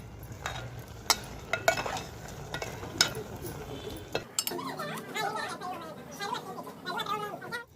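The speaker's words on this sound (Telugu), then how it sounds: "ఇప్పుడు వీటిని కూడా ఒక్కసారి ఇలా కలిపేసుకుని ఈ మామిడికాయ ముక్కలు కూడా పప్పులో బాగా ఉడికిపోయేంత వరకు ఉడకబెట్టేసుకోవాలి" Dal with raw mango pieces stirred in a cooking pot, the spoon knocking and scraping against the pot in uneven strokes, after which a voice talks over a softer bubbling.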